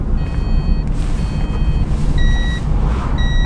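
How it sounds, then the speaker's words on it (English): Car seatbelt warning beeping, repeated steady high-pitched tones in short bursts over constant road and engine noise inside the vehicle. "there's a nice vivid beeping going on currently, and it will intensify if I do not put my seatbelt on"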